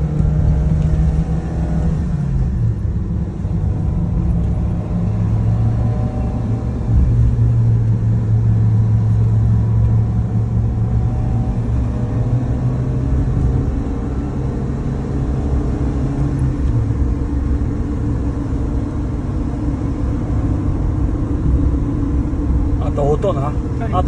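Cabin sound of a Mitsubishi Pajero Mini driving and accelerating on a road, with a steady low engine drone and rising pitch as it pulls, a brief bump from a manhole, and a person talking throughout.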